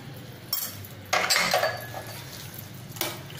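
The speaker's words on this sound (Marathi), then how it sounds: "आता हे काजू बेदाणे ते घालूया याच्यावर" Cashews and raisins tumble into a pan for coconut rice, giving a few clinking, rattling metallic knocks, one brief and two longer, at moderate volume with no voices.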